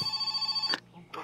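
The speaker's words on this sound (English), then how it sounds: "another phone call. That's got to be the sewage job for sure" A telephone rings inside the video game My Summer Car, a steady tone that cuts off partway, followed by brief game sounds and someone speaking.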